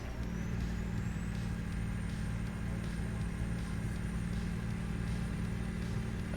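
A heavy-haul truck with an underpowered engine drones steadily while climbing a grade in American Truck Simulator, and a faint rising whine marks a gear change early on, with no talking.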